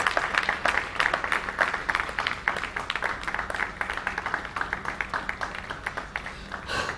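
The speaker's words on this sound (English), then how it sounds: "Please put your hands together. Is that the kind of applause that an ambassador deserves?" A conference audience applauds steadily, dense clapping holding at an even level from start to finish.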